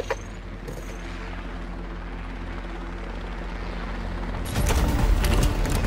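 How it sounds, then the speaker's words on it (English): A helicopter in the game Arsenal approaches as a steady low rotor drone that swells gradually, then a heavier rumbling burst near the end, loud and continuous. "It's a helicopter! Hurry!"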